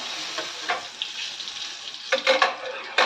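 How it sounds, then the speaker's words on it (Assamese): Food frying in a pan at home for guests, a continuous bright sizzle with occasional louder spattering bursts near the end, close and alone. "ভাজি লওঁ তেনেহ'লে মই"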